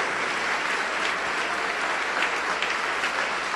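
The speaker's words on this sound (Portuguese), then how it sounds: "vamos aplaudir mais o Senhor Jesus" A church congregation applauding, a dense, steady wash of many hands clapping throughout, loud and continuous with no break.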